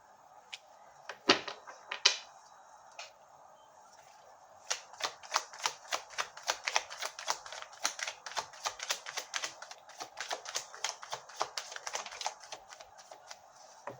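Tarot cards are drawn and shuffled from a deck in a rapid series of crisp, close paper flicks and snaps, a few isolated at first, then a long steady run of quick card riffles without talk.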